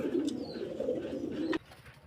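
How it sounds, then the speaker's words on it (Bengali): Racing pigeons give a soft, low cooing call close by, one continuous coo lasting over a second and then stopping. "এগুলো আসলে ছেড়ে দিয়ে পালা কবুতর তো রেস করানো কবুতর"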